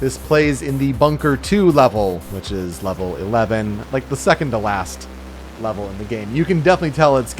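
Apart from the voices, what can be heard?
No everyday noises stand out.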